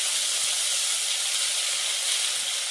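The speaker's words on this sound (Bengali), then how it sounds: "মটরশুঁটি পেস্ট দিয়ে দিচ্ছি।" Pea paste hitting hot oil in a wok, a loud, dense, continuous hissing sizzle held steadily from start to finish, close up with no speech.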